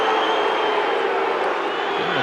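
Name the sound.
unhappy rugby league stadium crowd reacting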